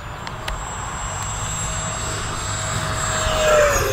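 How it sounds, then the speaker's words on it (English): An E-flite Viper RC EDF jet at full throttle gives a loud, steady high-pitched ducted-fan whine that rises and swells as it passes close overhead. "Full throttle around these cranks. This thing just cooks."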